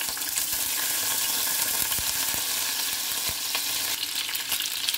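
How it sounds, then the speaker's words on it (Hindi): Boiled eggs fry in hot oil in a pan with a loud, continuous hiss and crackle. Scattered sharp pops and clicks cut through the spitting oil. "इसमें मैं अपने ये जो मैंने एग बॉईल करके रखे थे इनको इनके साथ फ्राई कर दूंगी"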